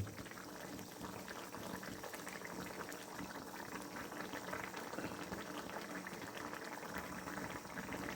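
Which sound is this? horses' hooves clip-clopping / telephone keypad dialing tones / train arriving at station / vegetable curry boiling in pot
vegetable curry boiling in pot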